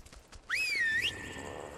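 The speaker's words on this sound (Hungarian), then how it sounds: "Fütyültem nektek!" One sharp, rising-and-falling whistle command in ARK Survival Evolved, clear and fairly loud over quiet outdoor ambience and faint hoof-like clatter.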